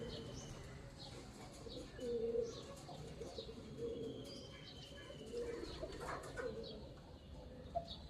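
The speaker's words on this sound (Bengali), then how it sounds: "পায়রাগুলোর মজা দেখো, সকালবেলা খেতে চলে এসেছে।" Pigeons coming to feed in the morning, cooing in low repeated soft phrases at moderate distance, with scattered chirps from other birds and an occasional brief flutter in the background.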